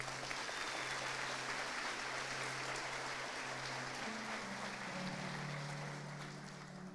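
A church congregation claps in praise of Jesus during a sermon, a dense and sustained wash of applause from many hands that holds steady throughout and eases off slightly at the end.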